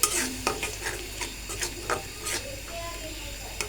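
Ginger, garlic, peanut paste and whole garam masala with bay leaf fry in oil, giving a low steady sizzle broken by sharp scraping stir strokes and clinks about every half second.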